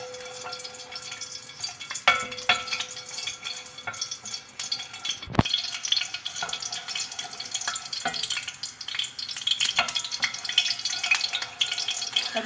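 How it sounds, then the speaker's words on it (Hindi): Cardamom fries in ghee for semolina halwa with a soft, steady sizzle, broken by occasional clinks and scrapes of a spoon against the pan, fairly quiet and close. "अब इसमें इलायची डाल के इसको थोड़ा फ्राई करेंगे।"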